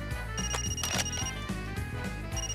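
An in-game phone rings in Far Cry with a continuous, clear electronic ring tone that pulses over a steady bed of game music.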